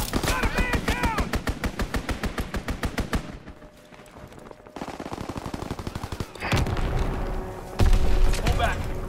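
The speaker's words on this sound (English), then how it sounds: "Fighter pilot inbound. Strafing the target." A fighter plane strafes ground targets in the World War II shooter game Call of Duty: WWII, with long rapid bursts of machine-gun fire, heavy booms and a roaring rush, while voices call out over the battle.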